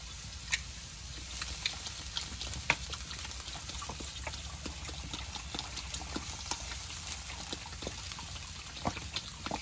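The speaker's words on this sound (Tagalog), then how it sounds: "Lagyan natin ng tubig ito." Continuous watery trickling and splashing with scattered small clicks as water goes into a pot of sautéed mung beans with tomato, close by and fairly quiet.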